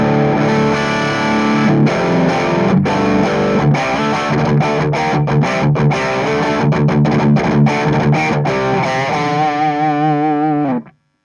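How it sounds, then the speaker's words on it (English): Distorted electric guitar through an amp's crunch channel with no overdrive pedal, drive turned down and level maxed, chords ringing continuously and loud before stopping abruptly at the end. "here is the sound of my crunch channel without the pedal"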